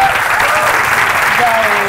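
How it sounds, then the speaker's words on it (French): Loud, dense applause from a crowd claps continuously throughout, with a voice faintly audible underneath. "Je vous demande d'applaudir"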